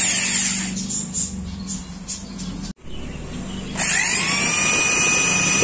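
A power drill bores into a wooden perch for a parrot, its steady high whine running loud and close for several seconds, dropping out briefly, then starting again at a higher pitch.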